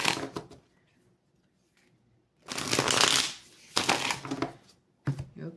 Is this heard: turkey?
no